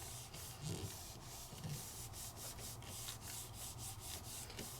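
A hand rubs steadily across the back of a paper die cut laid on a stamped card surface, giving a soft, close, continuous scraping with faint rhythmic strokes and no talking.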